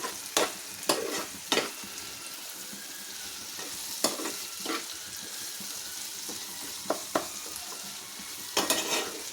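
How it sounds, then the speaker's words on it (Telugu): Broad beans and tomato curry fry in a pan with a soft, steady sizzle, broken by several sharp scraping stirs of a spoon against the pan. "ఇంకొక ఫైవ్ మినిట్స్ ఉంటే మంచిగా ఫ్రై అయిపోతుంది"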